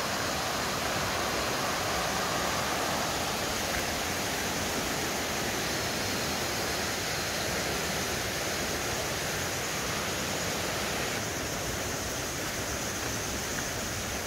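A waterfall rushes steadily through a shaded forest along a trail, a dense, even roar of falling water filling the whole span with no voices or other sounds.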